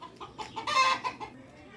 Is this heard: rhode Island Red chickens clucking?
yes